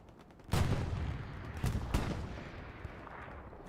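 Artillery fire during a competitive video game match, a heavy boom that hits hard and rolls on, followed by a couple more sharp blasts amid a dense rumbling wash of battle noise.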